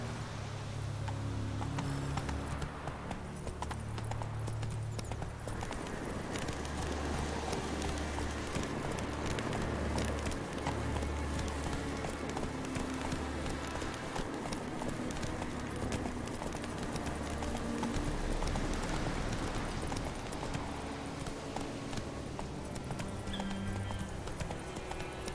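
Geralt's horse Roach gallops in The Witcher 3, its hooves giving a steady, quiet clip-clop that runs through the whole stretch with little talk over it.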